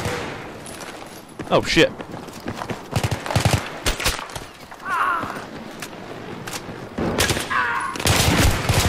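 PP2000 submachine gun firing in Battlefield 3, sharp bursts of shots scattered across the clip with other gameplay noise, while a player talks and exclaims over it.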